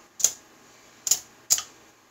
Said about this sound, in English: So let's go ahead and cut this tape off.